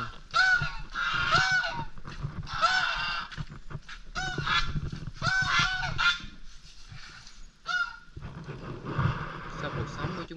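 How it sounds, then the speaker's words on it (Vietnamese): Geese honk repeatedly at close range, loud bursts of nasal calls in several clustered groups, with a person's voice talking in between and partly under them. "Mấy bạn ngỗng ra đón tiếp nữa."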